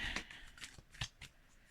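Tarot cards are shuffled in a few quick, soft riffling flicks, close up and quiet.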